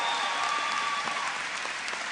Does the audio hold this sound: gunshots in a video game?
no